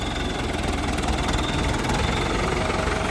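A tractor engine idles close by, a constant low rumble with a faint rhythmic chug and no voices throughout.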